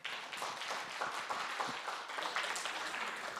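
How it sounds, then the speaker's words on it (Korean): A forum audience at a university liberal education session claps to welcome a presenter, steady scattered applause heard at a moderate distance throughout. "박수로 맞이하겠습니다"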